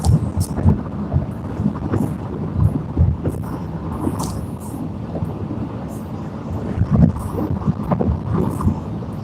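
Low rumbling thunder rolls through a summer storm with lightning, heard on a drive in Pennsylvania, swelling and fading in bursts over steady rain and wind buffeting the microphone.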